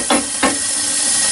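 Strips of guanciale sizzling in a pan on the stove for Amatriciana, a steady close frying hiss with two brief louder bursts near the start and no talk.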